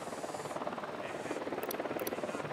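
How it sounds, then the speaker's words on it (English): A helicopter in the video game Ghost Recon Wildlands gives a steady, faint, pulsing rotor thump with a throbbing rhythm. Two short high blips cut in partway through. "Chopper incoming."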